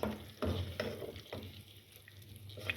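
Spoon stirring a potato and tomato masala in oil, with a few soft scraping strokes and a low sizzle, close up and fairly quiet, with no talking.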